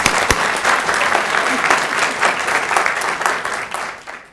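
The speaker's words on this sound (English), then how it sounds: "Let's give her a round of applause." An audience at a city council meeting in North Augusta gives a round of applause, a dense burst of clapping that holds steady, then thins and fades toward the end.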